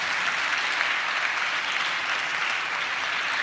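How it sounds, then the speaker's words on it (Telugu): A church congregation claps loudly and steadily, a dense wash of many hands sustained throughout, with no speech over it. "చప్పట్లు కొట్టండి గట్టిగా."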